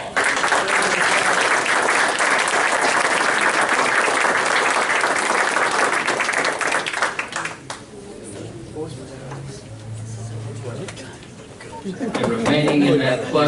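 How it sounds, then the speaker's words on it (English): Crowd at a school district meeting applauding, loud sustained clapping from many people that fades after several seconds into room murmur and talk. "one more round of applause"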